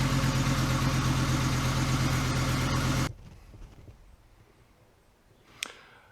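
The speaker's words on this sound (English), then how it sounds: "you guys hopefully just heard the car fire up after getting all that stuff replaced" An Audi 4000 quattro engine, freshly fitted with a new fuel pump and filters, runs with a loud steady droning hum, then cuts off abruptly halfway through, leaving near silence broken by a single faint click.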